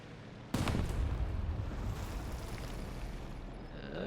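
Artillery fire in the Battle Buddies game lands as a sudden heavy boom that rolls into a long, dense rumble of blasts, fairly quiet and without talk.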